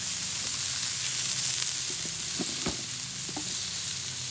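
Cut potatoes sizzling in a little oil on a Blackstone flat-top griddle, a steady close frying hiss with a few soft scraping and stirring clicks throughout.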